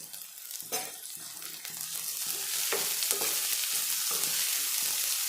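Sprouted green gram frying with onion in a pan: a close, steady hiss of sizzling grows louder partway through, broken by intermittent stirring scrapes.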